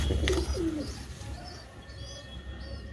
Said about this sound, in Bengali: তো এই যে আরেকটা পায়রা কালশিরা পায়রা খুব বড়